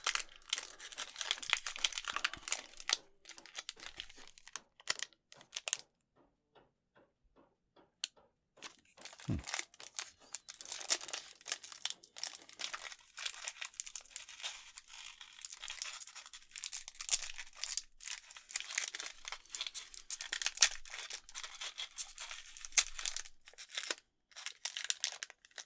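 Plastic wrapper of a Theros Beyond Death Magic card bundle being opened, close crinkling and tearing almost continuously, with a brief pause partway through, and faint talk at times.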